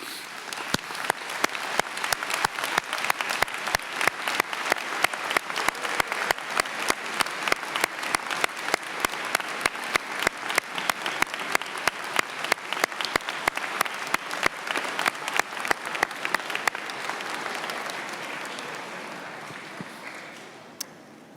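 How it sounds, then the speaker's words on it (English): Applause at a Johns Hopkins Carey Business School graduation ceremony for new Beta Gamma Sigma members, with sharp individual claps over a full crowd that hold steady for most of the time, then thin out and fade near the end. "I ask that those graduates who are new members of Beta Gamma Sigma please stand so that we can celebrate your achievement with a round of applause."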